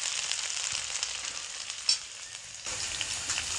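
Sliced onions frying in hot oil in a pan while cooking an egg dish, a steady close hiss and sizzle with a brief stir around the middle, alone without talk.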